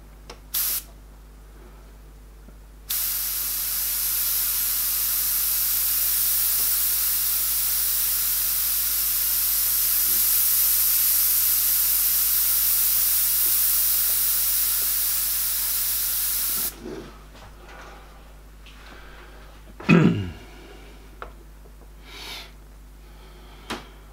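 An airbrush spraying sepia paint onto a Joker artwork, a steady loud hiss lasting about fourteen seconds that cuts off cleanly, followed by quiet handling clicks and a brief squeak.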